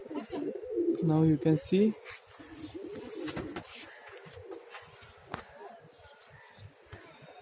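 Pigeons coo in loud, close, warbling calls while feathers are repaired before a tournament, with a person talking over shuffling and handling noises.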